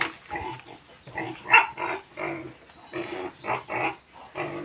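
Pigs grunting on a farm, a series of close, rough grunts and snorts coming in irregular bursts with short pauses between them.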